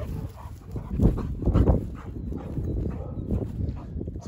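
Several boarding-kennel dogs bark in an overlapping chorus as they are let out onto the run, with loud, busy yapping going on throughout.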